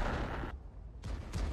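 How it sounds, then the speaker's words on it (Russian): A tank shell ricocheting off an allied tank in a World of Tanks–style game: a loud, dense blast of gunfire that cuts off into a brief lull, then a second burst of rumbling shots close by. "И снаряд отрикошетил в меня от союзника."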